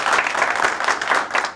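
A studio audience on a Turkish talk show bursts into applause, a brisk, dense patter of many hands clapping in quick pulses for under two seconds.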